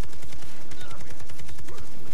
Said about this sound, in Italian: con un headshot è morto